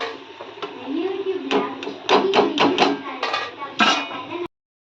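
Crispy fried masala peanuts are scooped out of a frying pan, with a run of metallic clinks and scrapes of a ladle against the pan over faint bubbling oil, close and fairly loud.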